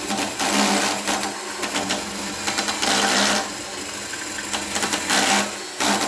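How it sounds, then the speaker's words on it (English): A drill bores a hole while LED lights are being put up, whining in repeated close bursts with short pauses between. "Drilling the hole part."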